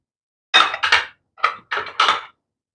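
Whole garam masala spices tipped into a pot of hot ghee, giving a few sharp clattering bursts in two quick clusters, close and fairly loud, with no talking.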